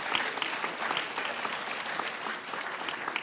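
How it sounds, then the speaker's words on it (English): An audience at a university Founders Day convocation breaks into sustained applause, a steady wash of many hands clapping at moderate loudness with no voices standing out. "Give yourselves another round of applause."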